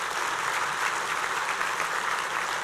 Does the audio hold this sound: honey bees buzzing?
no